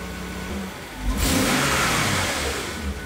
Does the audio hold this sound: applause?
no